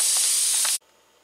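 A pressure cooker's valve hisses with a loud, bright, steady jet of steam while beans cook, then cuts off abruptly, leaving a faint background hum.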